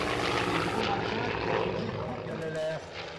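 A single-engine propeller aircraft flies past at the La Ferté Alais air show, its loud, steady engine drone filling the whole stretch and easing slightly toward the end, with a voice faintly present beneath.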